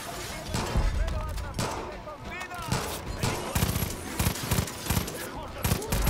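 Rapid gunfire in the video game Far Cry 5, with dense bursts of automatic shots and repeated bangs running throughout alongside game effects and voices.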